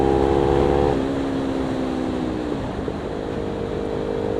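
A Kawasaki Ninja 300 motorcycle engine runs at full throttle, a loud, steady high-revving drone that drops in pitch once about a second in and then holds on, close and with no talk.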